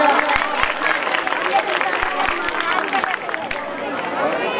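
Audience applause at a Ramlila stage event in Azadpur: a crowd claps steadily at moderate loudness for several seconds, with a murmur of voices underneath.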